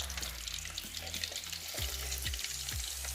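Fish (baam machli) fries in masala in a kadhai, giving a steady close sizzle with a few soft scraping stirs, and no talking.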